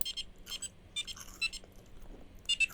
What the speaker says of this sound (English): That's the beeping tone telling you that the ball's out of bounds.